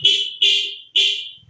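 A Kawasaki Rouser 180 motorcycle horn gives three short, sharp beeps in quick succession, loud and close, with a brief pause between each.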